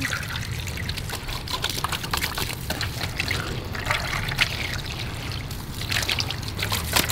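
Water sprays steadily onto a muddy Bruder toy construction truck to wash it, a continuous hissing trickle and splash that runs for several seconds without talk.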